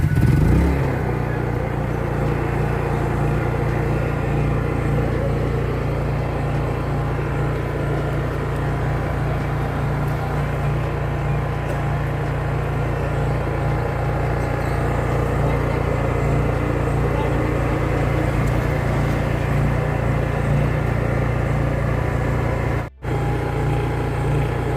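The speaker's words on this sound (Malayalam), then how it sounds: "എന്നിട്ട് സ്റ്റാർട്ടർ ഗ്രിപ്പ് ആഞ്ഞ് വലിച്ച് സ്റ്റാർട്ടാക്കുക. എൻജിൻ സ്റ്റാർട്ടായ ശേഷം ചോക്ക് ഓഫാക്കുക." A Honda EU 30i petrol generator engine fires up from a pull start and settles into a steady, even running drone that holds close and constant, with a brief dropout near the end.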